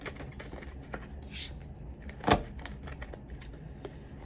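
Cards shuffled for a card reading, a soft, brief riffle in a quiet room with faint handling noises around it.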